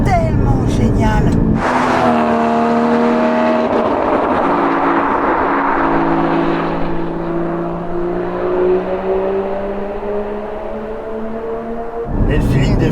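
A Porsche Cayman GT4 engine pulls hard under throttle, its rising tone loud and close from inside the car, with a short blip before the long climb and a fresh burst at the end.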